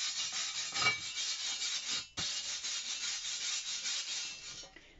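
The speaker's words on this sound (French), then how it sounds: "Et donc là je vais venir avec une brosse à poil dur, gratter" A stiff-bristled brush scrubs slag from a fresh weld, making a steady, close, dry rasping scrape that runs almost continuously, broken once by a brief pause.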